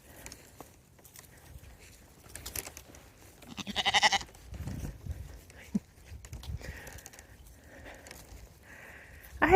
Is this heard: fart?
no